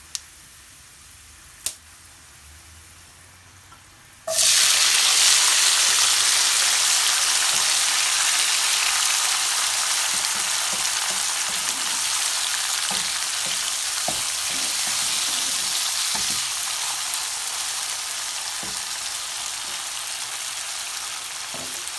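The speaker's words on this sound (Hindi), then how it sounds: "अब हम इसमें डाल देते हैं टमाटर।" Tomatoes tipped into a pan of frying cumin seeds, a quiet pan until a sudden loud burst of sizzling that settles into a long, steady frying hiss with light crackles.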